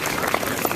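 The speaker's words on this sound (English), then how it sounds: "Can we get a round of applause" Applause from an outdoor crowd at a parade rally in a city park, a brief steady patter of many hands clapping heard at moderate distance.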